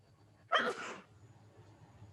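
One sharp human sneeze bursts out midway, fairly close, then fades back into a quiet, low background hum.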